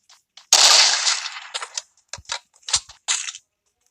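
Gunfire in the mobile battle royale game Free Fire: one long burst of automatic fire followed by several short, sharp bursts and single shots in quick succession, loud and close, with no talk over them.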